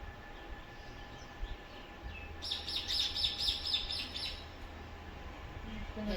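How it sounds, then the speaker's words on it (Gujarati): Small sparrows chirp in a quick, busy burst for a couple of seconds, set against a steady low rumble and faint hum in the background. "ખીચડી ખાવા આવે નાની નાની ચકલીઓ"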